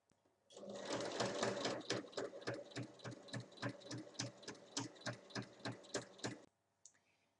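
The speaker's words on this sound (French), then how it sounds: "on va faire une surpiqûre sur tout le tour à 1 mm" A sewing machine runs a 1 mm topstitch all around the edge of a small fabric catch-all tray, sealing the lining opening. It starts with a fast continuous whir, then settles into loud, regular, evenly spaced stitch bursts before stopping.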